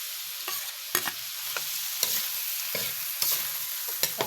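Chili stirred into a hot pan of beef skin adobo: a steady frying sizzle runs throughout, broken by a few sharp scraping stir strokes at uneven intervals. It is close and fairly loud, with no talk.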